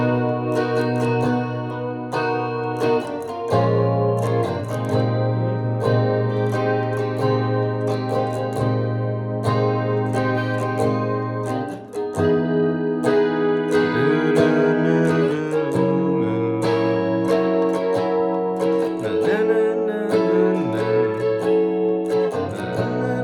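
Electric guitar with chorus and effects playing a chord progression out of a song's chorus, a steady strummed sequence of chords with clear changes every few seconds, moderately loud and alone.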